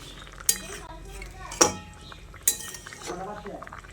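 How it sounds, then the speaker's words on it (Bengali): Fried aubergines stirred with potatoes in a pan, three sharp utensil clinks against the metal with soft scraping between, close and fairly quiet. "বেগুনগুলো দিয়ে হালকা হাতে এইভাবে আলুর সঙ্গে নেড়ে চেড়ে মিশিয়ে দিতে হবে।"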